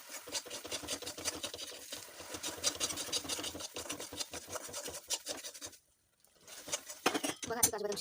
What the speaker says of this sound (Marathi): त्या सर्व आपल्याला फोडून घ्यायचं आहे आणि चांगला गुलाबी कलर असतो ते भाजायचं